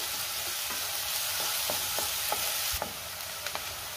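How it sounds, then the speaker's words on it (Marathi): Onion and green chili frying in hot oil for paneer masala, a steady broad sizzle with a few sharp spoon scrapes and taps as the pan is stirred, close and with no talking. "कांदा थोडा लाल रंग येईपर्यंत मी परतून घेणार आहे"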